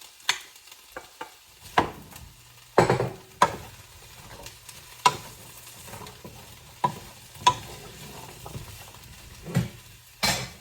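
Half a red cabbage goes into a pan with chicken and is stirred, giving a low sizzle broken by sharp scrapes and clatters of the utensil against the pan at irregular intervals, with no talking.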